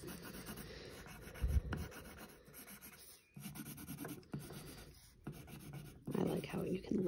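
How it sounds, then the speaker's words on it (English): Colored pencil scratching and rubbing across paper in steady layering strokes, soft and close, with a few louder scrapes and a quiet voice underneath. "I like to layer my color pencils when I'm using them."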